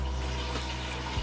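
Hot water poured into a container for dissolving a stock cube in a home kitchen, a steady close, loud splashing flow throughout with no voices.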